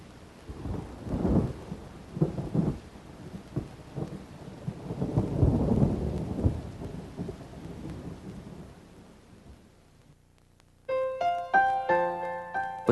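A thunderstorm on a hot July day, with rolling rumbles of thunder and steady rain noise, loud and close, fading out before a few bright musical notes enter at the end.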